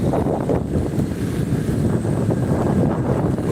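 Strong wind during heavy rain roars and buffets the microphone as a steady, loud, low rumble for the whole stretch, with no voices.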